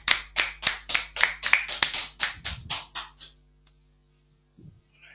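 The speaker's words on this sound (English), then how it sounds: "Give a big round of applause for Somabha, guys." Audience applause after an award announcement at a GRE prep session: a short burst of brisk, evenly spaced claps from a small group, close and loud, fading out after about three seconds into quiet.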